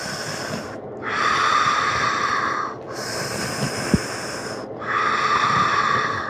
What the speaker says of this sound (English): So breathe in through the mouth and out through the mouth.